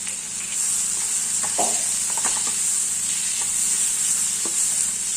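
Onions and capsicum for an egg porial sizzle in a pan as turmeric, chili powder and garam masala go in, a steady close frying hiss broken by a few soft stirring scrapes, with no talk.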